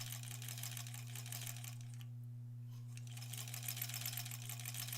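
Sewing machine stitching quilt block fabric on the bias, a faint rapid needle chatter over a steady low motor hum, pausing briefly midway before resuming.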